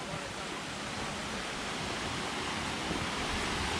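Steady broadband rush of water pouring through a flume at an outdoor swimming hole, a continuous even roar with no breaks, moderately distant and fairly quiet.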